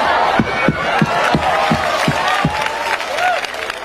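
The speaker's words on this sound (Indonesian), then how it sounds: "Benar, tepuk tangan. Mantap tuh tepuk tangan cicing." A mosque congregation, the jamaah at a Sundanese religious talk, claps and cheers in rhythmic bursts of roughly five or six hand-claps, with shouting voices and a wavering cry riding over the crowd noise.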